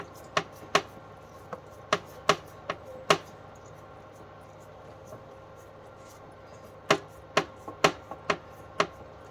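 Hands slap semolina roti dough flat and thin, a series of sharp, close patting smacks in two bursts, first spaced out and then a quicker cluster, over a quiet kitchen background.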